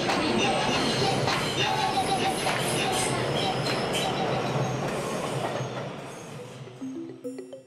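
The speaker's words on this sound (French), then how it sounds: "Le métro déroule près de 400 km de voies." A New York subway train rolls past with a loud rumbling roar and rattling wheels that slowly fade toward the end, while a voice speaks over it.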